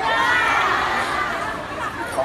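A crowd at a motor show cheering and shouting together in one loud, steady roar that holds for the whole stretch, with voices mixed in.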